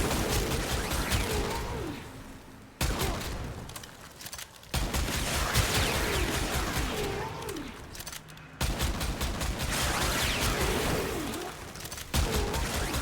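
Video game weapon gunfire, a secondary gun fired in bursts of rapid shots in several volleys separated by brief pauses, loud and close with no talking.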